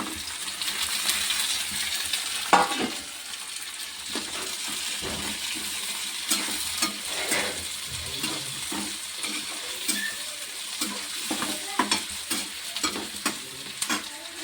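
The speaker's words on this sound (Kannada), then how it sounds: "ಈಗ ಟೊಮೆಟೊ ಹಾಕ್ತೀನಿ ನೋಡ್ರಿ" Tomatoes fry in oil for chicken biryani, with continuous close sizzling and frequent metallic clinks and scrapes of a spoon stirring against the pot.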